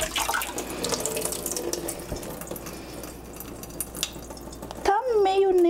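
Tap water runs steadily over dyed cotton yarn being rinsed in a sink, a continuous close splashing flow, with a voice speaking briefly near the end.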